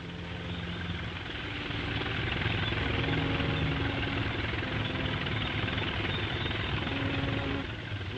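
Jungle cruiser engine approaching as a radio drama sound effect, a continuous droning rumble that swells in the first couple of seconds, holds steady and loud, then eases off at the end, with no voices over it.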